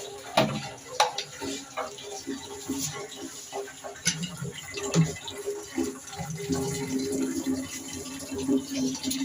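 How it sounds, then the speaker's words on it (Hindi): Water running from a public water supply tap fitted with a filter, heard as a continuous splashing flow with some clinks and knocks near the listener. A faint voice can be heard in the background. "अभी मैं आया हूँ वाटर सप्लाई का पानी लेने और ये देखें इधर फिल्टर लगा हुआ है।"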